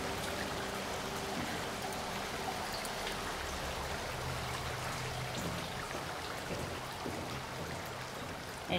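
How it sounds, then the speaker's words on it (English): Water flows and trickles steadily in the video game Soma, a soft continuous wash with small splashes, heard alone at low volume. "And now there's a stream of water going this way."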